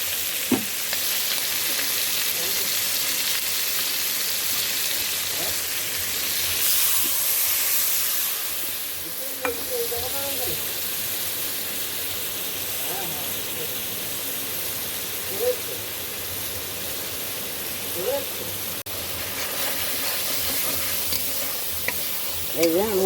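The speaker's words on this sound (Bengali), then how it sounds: "এরপরে আমি দেবো মশলা।" Spices added to shrimp frying in a pan give a steady, close sizzle, broken by occasional scraping and clinking stirring strokes, with no talk over it.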